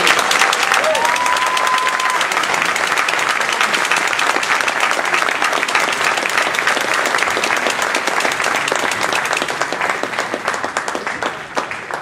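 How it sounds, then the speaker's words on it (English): A conference audience gives sustained, dense applause for speech evaluation contestants at a Toastmasters district event, loud and steady for about twelve seconds, easing slightly near the end, with a brief voice early on. "a round of applause for our speaking evaluation contestants"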